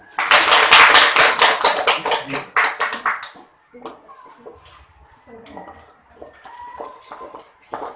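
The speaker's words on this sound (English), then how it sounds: "a round of applause for the debater this morning" Applause for student debaters at a class debate on whether cellphones should be allowed in school: a dense burst of clapping for about three seconds that fades out, followed by a voice speaking.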